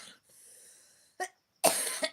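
A couple of sharp, close coughs with a short pause between them, and faint breathing before them.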